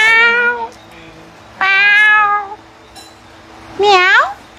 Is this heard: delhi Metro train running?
no